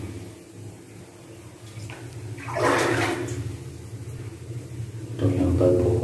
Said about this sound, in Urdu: اس میں بارش کا پانی آتا ہے اور وہ نکالنے کے لیے پمپ ہیں۔